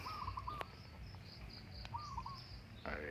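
A caged zebra dove (perkutut), a local wild-type bird, gives two short rolling coo phrases, faint and slightly distant, over a steady hum of insects and a few faint chirps from other birds.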